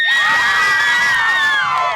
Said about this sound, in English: Those Lena Winslow cheerleaders with a lot to cheer about.